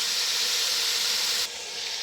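Beef frying in a pot for yakhni pulao sizzles with a steady, loud hiss that drops suddenly to a quieter sizzle partway through.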